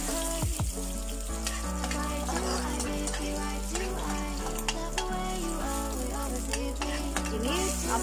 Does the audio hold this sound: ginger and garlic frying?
yes